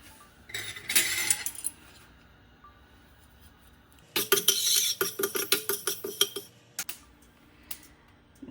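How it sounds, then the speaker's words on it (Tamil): Black peppercorns dry-roasting and stirred in a pan for temple-style puliyodarai, heard as bursts of rattling, scraping clinks of a spoon against metal, separated by quiet pauses, with no talk. "2 டீஸ்பூன் மிளகு ஃபஸ்ட்டு வறுத்துக்கிறோம்"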